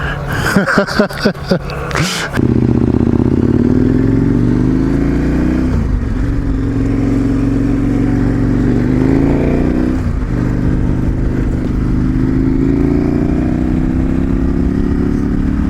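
A KTM 1090 Adventure R motorcycle is heard after some brief clatter at the start. Its engine then drones loud and steady, rising through revs and shifting gears twice as the bike pulls away up a road.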